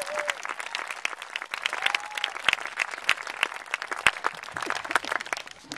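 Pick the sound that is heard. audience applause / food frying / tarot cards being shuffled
audience applause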